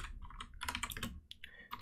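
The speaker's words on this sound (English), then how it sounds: "So sorry, I'm butchering my typing right now." Rapid, close typing on a computer keyboard, with quick irregular key clicks and a few slightly louder strokes, heard alone without talk.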